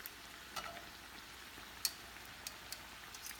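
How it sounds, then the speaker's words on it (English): Homemade quesadillas fry in oil in a pan, giving a faint, steady sizzle with sparse soft pops and crackles, quiet and without any voices. "So yeah, it takes about 2 minutes on each side, and your quesadillas are cooking."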